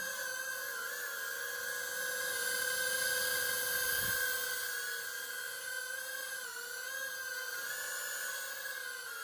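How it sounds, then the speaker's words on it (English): A Holy Stone HS450 small drone with obstacle avoidance hovers and flies close by, its propellers giving a steady high-pitched whine that swells and dips slightly as it moves. "this is quite a good fun little drone"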